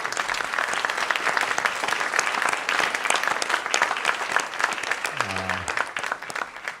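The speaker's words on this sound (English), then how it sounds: "a round of applause for our panel" An audience at a clean-power conference applauds its panel with sustained, dense clapping for several seconds, fading near the end as a voice briefly sounds.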